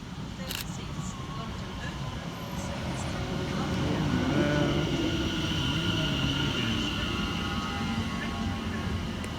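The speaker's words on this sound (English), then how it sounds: "Also arriving into the station is 710-120 and 710-111, working the 1336 London Overground service" A pair of London Overground class 710 electric units on the Enfield Town to Liverpool Street service rolls into a station platform, a steady mid-level rumble that swells toward the middle, with faint voices in the background.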